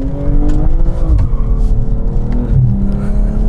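A 2021 BMW M240i's engine and exhaust accelerate up through the revs, a loud steady drone with rising harmonic sweeps and a brief drop at each gear change, heard alone.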